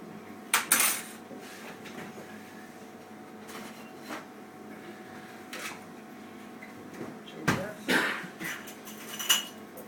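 A cocktail being stirred in a glass rather than shaken gives off intermittent clinks and scrapes of metal against glass, with some louder knocks near the start and toward the end over a quiet background.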